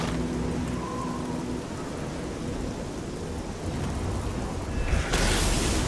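A chain lightning spell in the modded Oblivion video game gives a dense, continuous crackling roar like heavy rain and thunder, steady and loud, with a sharper burst near the end.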